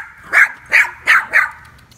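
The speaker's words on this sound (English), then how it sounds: "A shih tzu and a poodle, right? Yeah. It's a shih tzu." A small shih tzu poodle mix dog gives four sharp, evenly spaced yappy barks close by, with quiet gaps between them and no talking.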